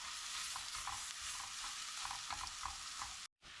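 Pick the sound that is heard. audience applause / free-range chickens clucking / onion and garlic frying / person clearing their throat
onion and garlic frying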